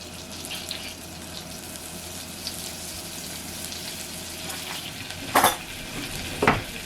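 Garlic butter with parsley melts in a pan with a soft steady sizzle, joined by a few brief clinks of a utensil against the pan near the end.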